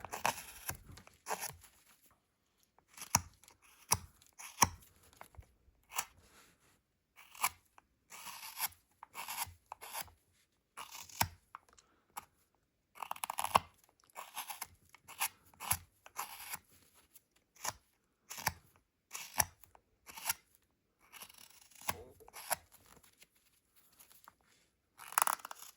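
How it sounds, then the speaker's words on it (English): A larger knife shaves away the edge of a small carved wooden snowman in a woodworking shop, giving irregular scraping and slicing strokes separated by short pauses, close and quiet with no talking. "I take my little bit larger knife and start cutting away the edge."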